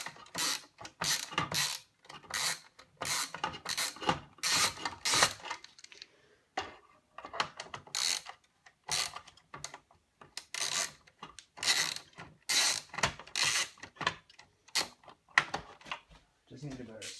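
Screwdriver backing screws out of Dell Optiplex 775 parts, maybe a proprietary cooling shroud and heat sink: rapid bursts of close ratcheting clicks and scraping, repeated in short rhythmic runs with brief pauses throughout.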